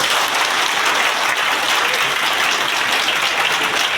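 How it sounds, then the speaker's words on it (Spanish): A crowd gives a loud round of applause for Rafaelito Alburquerque, host and teacher at a union gathering, a dense, even roar of clapping held at full strength throughout. "quien pide un fuerte aplauso para él."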